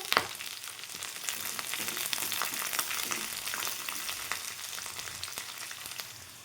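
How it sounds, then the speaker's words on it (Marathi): Chopped onion and green chillies sauté in hot oil in a pan for a village-style drumstick and pea curry, a steady dense sizzle with soft scraping stirs, close and continuous, with no talking. "कांदा टाकून घेते आणि कांदा पण छान परतून घेते हिरवी मिरची पण त्याच्यामध्येच परतायची"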